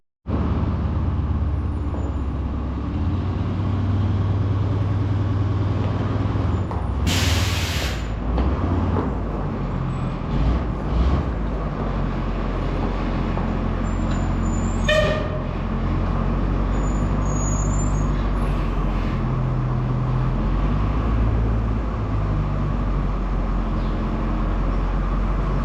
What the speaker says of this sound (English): that's got the truck backed up in here